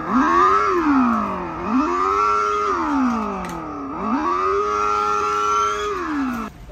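A children's toy R15-model motorbike gives off a loud electronic revving tone that rises and falls in three repeated sweeps, steady and close, with no talking.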